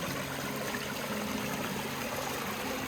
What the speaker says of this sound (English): a stream of water in